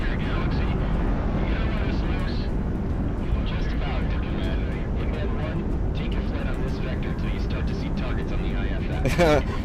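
A fighter jet in the flight combat game Project Wingman accelerates to supersonic speed at the start of a mission, giving a steady, dense engine roar throughout with a person talking over it.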